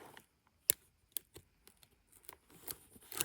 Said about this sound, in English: Sometimes I come in with scissors.